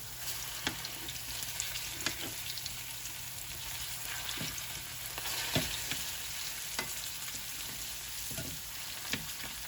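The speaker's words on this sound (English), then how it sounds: "just frying up some potatoes" Steady sizzling of potatoes frying in a pan, with occasional clinks and scrapes of a utensil stirring, no voices.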